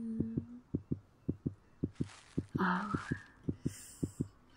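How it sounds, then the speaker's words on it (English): A rapid, steady heartbeat thuds in close, even pulses throughout, with a brief voice and a soft rushing sound midway. "I can hear your heart beating fast in your chest."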